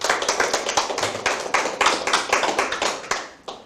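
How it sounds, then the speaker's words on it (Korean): An audience at a Korean public event on the mugunghwa (rose of Sharon) gives a dense, steady round of applause with sharp individual claps standing out, tapering off near the end. "홍천군을 위해서 박수 한번 부탁드리겠습니다"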